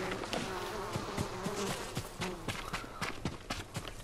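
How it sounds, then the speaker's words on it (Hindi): A beehive in the samurai game Ghost of Tsushima gives off a steady, close insect buzz. It runs under footsteps and outdoor game ambience, with no talk. "मधुमक्खी का छत्ता है क्या ये?"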